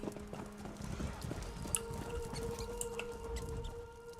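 Rhythmic hoofbeats clip-clop at close range with a horse's whinny mixed in, over a low steady hum of Elder Scrolls Online game audio and faint talk.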